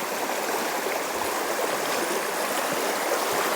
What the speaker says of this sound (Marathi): बघा पाणी बघा कसं येतं.